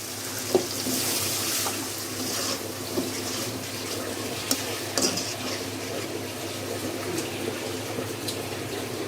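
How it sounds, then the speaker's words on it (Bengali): Water poured into a pan of fried singh fish cooked with onion and tomato: a steady rushing splash and bubbling hiss, fairly loud and continuous, with a few light utensil knocks. "ভাজা ভাজা হয়ে গেছে, পানি দিয়ে তারপর এক এক করে মশলা দিয়ে দিব।"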